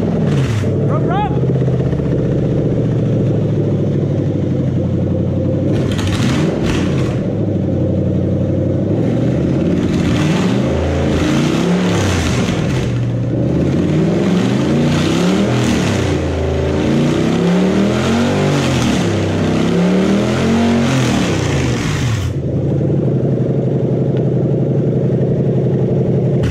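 A Toyota 3UZFE V8 fitted in a Bedford van cranks, starts and runs, its low engine drone rising and falling through several revs, loud and close, with someone talking over it before settling to a steady idle.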